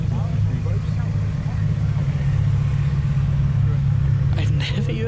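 Car engines and exhaust pipes rumble at an outdoor evening car meet, a steady deep idle drone running the whole time, with faint voices nearby and a brief sharper burst near the end.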